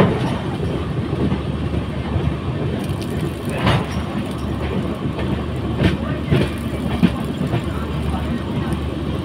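The Padatik Express rolls along near New Cooch Behar with a continuous, loud rumble and rhythmic wheel clatter, punctuated by occasional sharp metallic clicks and squeals.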